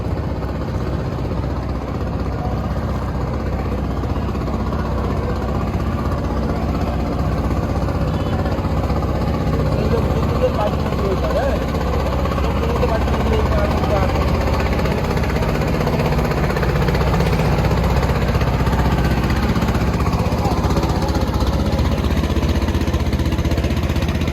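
A river trawler boat's engine runs steadily at night, a constant low drone with a mid-range hum that holds even and unbroken throughout, with no talk over it.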